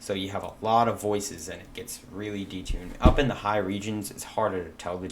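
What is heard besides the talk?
None of the usual background noises is heard.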